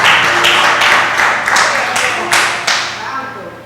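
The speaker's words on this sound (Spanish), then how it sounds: "Si ese aplauso era para mí está bien" Applause from a church congregation, loud bursts of many hands clapping in waves that fade and swell again, with a voice faintly present underneath.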